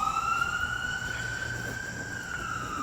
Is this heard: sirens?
yes